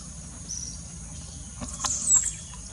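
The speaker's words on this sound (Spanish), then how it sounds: "Las aves del colegio de nuestra institución es que podemos apreciarlas en su hábitat natural y en tiempo de silencio podemos escuchar su canto." Birds singing in the trees of a school grounds, faint high chirps and a thin whistled call over a steady hiss of background ambience, with no one speaking.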